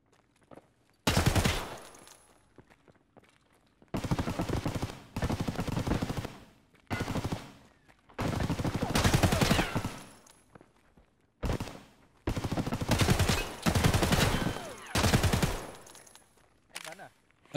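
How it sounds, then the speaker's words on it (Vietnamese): Escape From Tarkov gunfire comes in several loud bursts of shots, each lasting about a second or two, with short gaps of near silence between them. "Ừ anh bắn nó ở trong"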